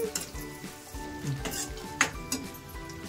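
Chicken sizzles in a pan after chili powder goes in, a dense, close frying hiss broken by the scrape and clink of a spoon stirring against the metal.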